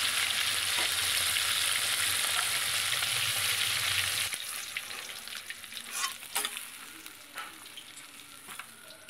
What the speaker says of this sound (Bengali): এক এক করে সব মাছগুলো আমি এখানে ভেজে নিয়েছি